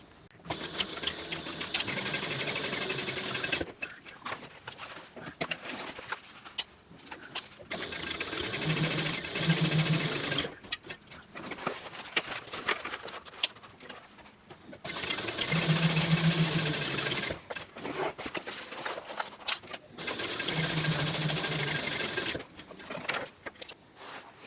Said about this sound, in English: I'm going to sew all of these at 3/8 of an inch.